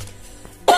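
A single sharp cough bursts out near the end after a quiet, low hum.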